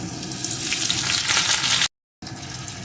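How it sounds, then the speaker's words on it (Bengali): Small sweet potato pieces go into hot oil where whole cumin seeds are frying, giving a loud, steady hissing sizzle that cuts out briefly into silence before resuming. "এখন এর ভিতরে দিয়ে দেব মিষ্টি আলু"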